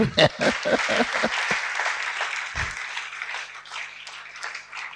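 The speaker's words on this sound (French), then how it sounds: "on peut acclamer pour le chant" A church congregation breaks into applause for a song, with a few sharp claps up front swelling into sustained clapping and cheering that carries on at fairly close range.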